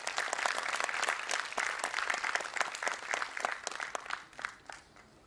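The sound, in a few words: audience applause for guests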